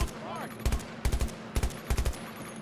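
Several bursts of rapid automatic gunfire in Battlefield 2042, loud and close, firing in short rattling volleys separated by brief pauses.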